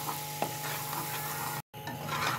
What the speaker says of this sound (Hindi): ये मैदा का आप इसमें अच्छी तरह फ्राई करें, इसका कलर चेंज हो जाए